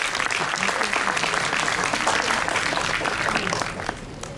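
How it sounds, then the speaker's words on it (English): A school audience gives loud, sustained applause at a Model United Nations closing ceremony, dense clapping filling the hall for several seconds before easing slightly near the end. "Can we please have a huge round of applause, audience?"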